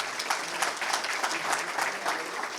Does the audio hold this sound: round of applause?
yes